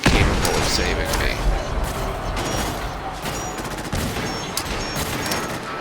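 Swarm bots exploding in Fallout 4, a loud rattling series of rapid blasts and crackling bursts across the whole stretch, mixed with game sounds.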